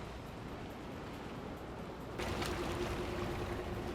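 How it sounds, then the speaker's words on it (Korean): A fishing boat's steady low engine rumble with water wash, rising slightly louder partway through, continuous and close. "낚시선의 엔진 소리는 군의 발길을 재촉하고"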